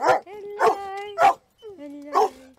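Dog barking outdoors on a walk: four separate yelping barks with whiny, tonal tails, spaced about half a second apart, close and fairly loud.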